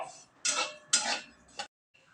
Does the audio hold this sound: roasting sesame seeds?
yes